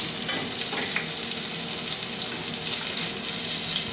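A salmon fillet sears and blackens in a hot pan, giving a steady, loud, close sizzling hiss with little variation throughout.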